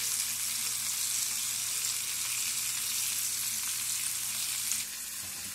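Bacon frying in a pan gives a steady, dense sizzle that holds evenly throughout, fairly close and alone, dropping slightly in level near the end.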